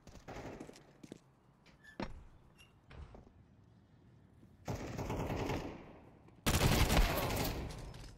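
Gunfire in the Counter-Strike video game, with scattered single shots early on, then two long, loud bursts of rapid automatic fire near the end, alone with no talk.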